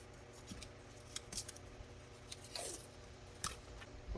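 Masking tape torn and pressed onto a Warn winch part during paint prep, giving a few short, close rips and crinkly sticking noises scattered over a quiet background.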